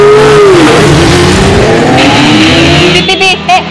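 A voice imitating a motorbike engine revving: one loud, close, drawn-out rising and falling drone that breaks into short bursts toward the end.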